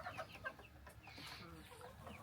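Chickens and roosters cluck softly in a farmyard, a few faint, short calls scattered over a quiet, low background.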